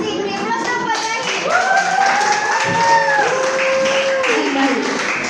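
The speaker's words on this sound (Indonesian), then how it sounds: "Beri aplaus dong buat lagi." Students in a classroom clap their hands together in steady applause, with bright voices calling out over the clapping throughout.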